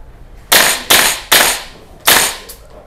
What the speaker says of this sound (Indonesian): Gue sendiri nembak cukup menahan recoil ya. Sekarang ke burst.